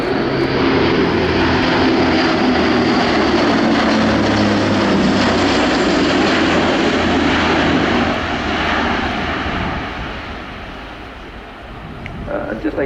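An Airbus A400M Atlas turboprop military transport roars loudly through a flying display at RIAT 2018, a steady droning engine and propeller wash that slowly fades and shifts as it banks, with a commentator speaking over it.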